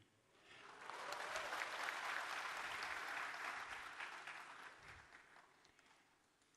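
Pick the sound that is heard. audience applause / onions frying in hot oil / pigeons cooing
audience applause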